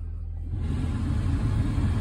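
A 2008 Ford Escape SLT engine idling just after starting, a steady low rumble close by that swells slightly after the first half second and holds on without talk.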